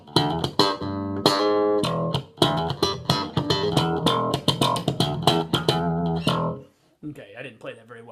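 Funky electric bass line mixing thumb slaps, finger plucks and muted ghost notes, played in a quick, percussive rhythm with sharp attacks, close and loud, ending abruptly before a brief quieter phrase.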